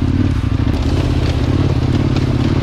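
A motorcycle engine drones steadily up close, with a low rumbling tone and faint crackling and scraping from the ride over soft sand and hard stones off-road in Portugal.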